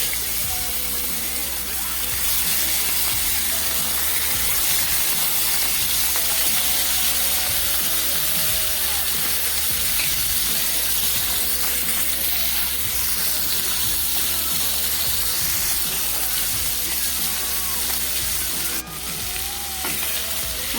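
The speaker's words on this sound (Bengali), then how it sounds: "এই তেলের মধ্যেই ভেজে নেব মশলা মাখানো মাছগুলো" Spice-marinated fish fry in hot oil seasoned with nigella seeds, a loud, continuous crackling sizzle with faint stirring and clicking sounds throughout, no voices.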